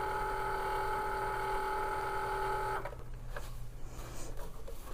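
A Cricut cutting machine runs after being cleaned, giving a close, steady whirring motor tone with clear pitched hum for about three seconds, then stopping and leaving soft clicks and handling noises.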